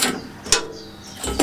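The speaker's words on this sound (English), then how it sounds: "Just let the grinding wheel slow down" A sawmill blade sharpener's grinding wheel spins down after finishing a pass, giving a steady mechanical whir with faint clicks, one brighter scraping burst and louder rattling near the end, with no talk.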